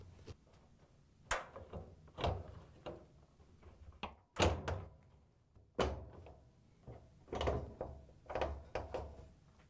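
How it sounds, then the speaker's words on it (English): An LG/Kenmore dryer bulkhead is pushed into place and its tabs lock into the cabinet. About a dozen sharp, close plastic-and-metal clunks and clicks come in uneven bursts, with quiet gaps between them and no talking. "then we can put the bulkhead in place and lock the tabs into the cabinet"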